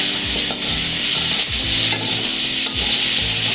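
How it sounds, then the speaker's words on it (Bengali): Flat beans fry loudly in a pan with a dense, continuous sizzle and crackle. Close scraping stirs recur every second or so. No voices. "এর সঙ্গে এবার আমি সিমটা একটুখানি ভেজে নেব"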